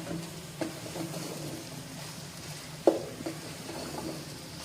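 Cabbage and vegetables frying in a pan for Chinese fried rice, with a soft steady sizzle and a few light clinks of a spatula stirring, quiet and close.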